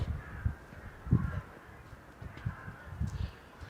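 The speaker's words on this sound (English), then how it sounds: "The crows." Several crows caw in short, spaced calls from trees on a nature walk in Vienna's Döbling district, moderately distant over quiet outdoor ambience.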